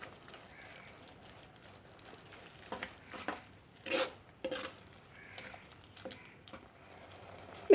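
Prawn theeyal gets stirred with ground paste in a pan, giving soft scraping and stirring strokes in irregular bursts over a faint sizzle, fairly quiet and close.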